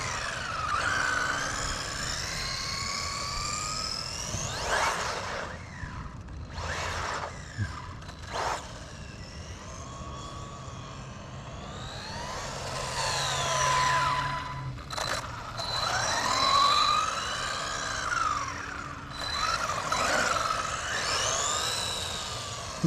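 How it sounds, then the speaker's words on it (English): The engine of an Exceed-RC Sunfire RC car whines and revs under throttle. The high-pitched buzz rises and falls in sweeping bursts, at times close and loud and then fading as the car moves away, with no talking over it. "You just barely give it any throttle and it just takes off"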